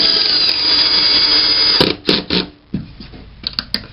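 A power drill drives a 1.5 inch number 8 screw through an L-clip into a closet unit, a loud continuous whir that stops abruptly, followed by several short clicks and knocks.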